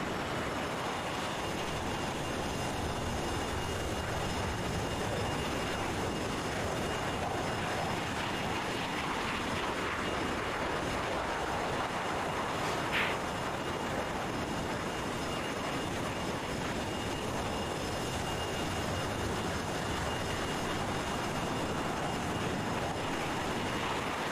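Flanker fighter jets in a combat flight simulator match depart as a two-ship, producing a steady, broad engine roar that holds at a constant level throughout, with no talking.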